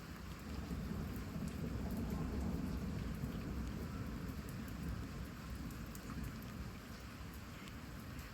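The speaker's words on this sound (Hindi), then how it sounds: "बारिश जोर से बरस" Heavy, steady downpour with a constant dense hiss of raindrops and a deep, continuous thunder rumble underneath, no voices present.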